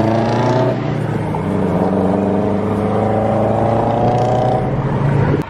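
A Subaru BRZ accelerates hard during a rolling pull, its engine holding a loud, rising drone with strong harmonics for several seconds, heard from inside the car, before the sound cuts off abruptly at the end.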